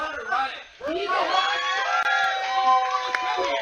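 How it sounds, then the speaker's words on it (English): Crowd at an esports co-op division tournament cheering and shouting with excited voices and whoops, a dense, lively roar that rises and stays loud throughout. "Guys, you need to give a round of applause for Riot."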